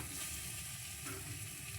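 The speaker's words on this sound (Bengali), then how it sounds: "আলু বেগুনগুলো কিন্তু আবারও 1 মিনিট মতো মশলার সঙ্গে কষিয়ে নিচ্ছি" Fried potato and eggplant pieces sauté in spice masala for a rohu fish curry, a faint, steady sizzle with light stirring underneath.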